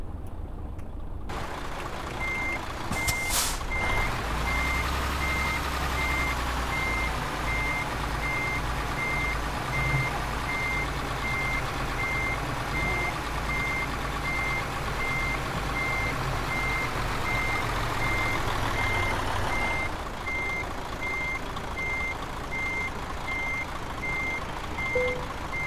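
Truck reversing alarm in Euro Truck Simulator 2, a MAN truck backing up with steady evenly spaced beeps repeating over a constant low engine drone, with a brief air hiss near the start.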